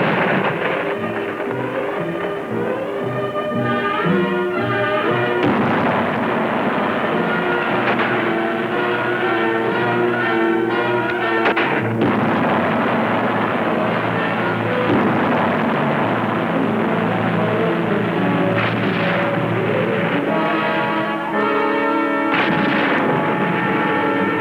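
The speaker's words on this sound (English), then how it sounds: "5 batteries of artillery, mortars, anti-tank weapons, and machine guns are brought to bear upon their positions." Sustained WW2 barrage in the Solomon Islands campaign, artillery, mortars, anti-tank weapons and machine guns pounding positions near a lagoon, a loud continuous rumble with dense bursts and repeated thuds throughout.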